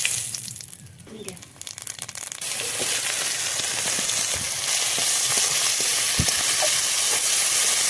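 Bay leaves, dried red chillies, cardamom, cloves and cinnamon hit hot oil for a spicy meat curry, the sizzle swelling into a steady loud hiss with scattered crackles and stirring clicks.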